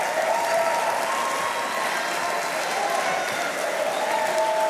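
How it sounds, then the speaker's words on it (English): Steady, loud applause from a graduation audience at a business school ceremony, continuous and even throughout with no break. "A round of applause for her."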